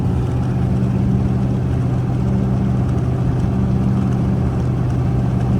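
A truck on oversized bogger tires at highway speed, engine near 2,000 RPM, gives a steady, loud low drone with a deep exhaust rumble, constant and close, with no speech.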